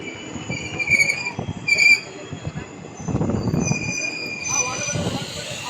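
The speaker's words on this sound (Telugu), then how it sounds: "ట్రైన్ వచ్చింది ఫ్రెండ్స్" A train rolls into a station with screeching wheel squeals and metallic rumble, while people talk nearby amid platform bustle.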